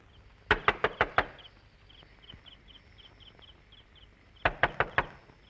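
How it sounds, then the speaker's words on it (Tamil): Someone raps on a door in a Tamil film scene: a quick burst of about five sharp knocks, a pause with crickets chirping softly, then another similar burst of five knocks. "அம்மா அம்மா, யாரோ கதவு தட்டுறாங்கம்மா"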